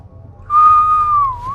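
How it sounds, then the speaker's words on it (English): A person whistles a single sustained, slightly wavering note close by, loud and clear over faint background. "Stop whistling in my ear."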